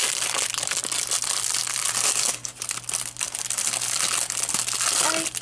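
Plastic packaging around nail stamping plates crinkles and rustles continuously as it is unwrapped, a close, loud crackling with a brief lull partway through and no talk.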